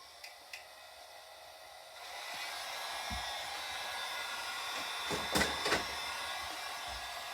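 A heat gun switches on and blows hot air in a steady, airy hiss that holds level after a couple of faint clicks, with a few small knocks near the end.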